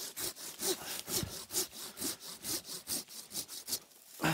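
Hand saw cutting through a chestnut tree branch during grafting, a steady rhythm of rasping back-and-forth strokes, close and clear, about a dozen strokes with no talk.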